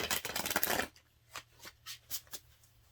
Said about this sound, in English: So I'm going to shuffle again.